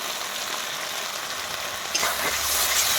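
Potato and bitter gourd with red chilli powder and ground green chilli are stir-fried in a pan, giving a steady hiss of frying that swells louder as stirring picks up near the end.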